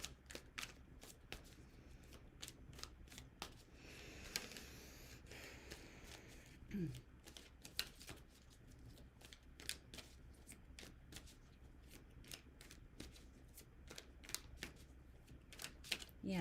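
Tarot cards are shuffled and pulled from the deck, giving rapid soft riffling and flicking snaps repeated throughout, faint and close, with occasional quiet breaths.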